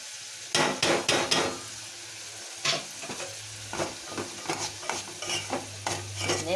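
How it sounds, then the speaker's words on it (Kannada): Chickpeas fry in a little oil while a utensil scrapes and knocks against the pan in irregular strokes over a soft, continuous sizzle, close by and without speech. "ಇವು ಸ್ವಲ್ಪ ಎಣ್ಣೆಗೆ ನಾವು ಫ್ರೈ ಆಗಲಿ ಮೊದಲು"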